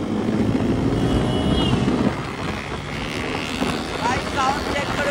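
A Yamaha R15 V3 BS6 motorcycle with its exhaust silencer's dB killer removed drones steadily in the background, a fairly even engine rumble mixed with ambient noise and people talking nearby.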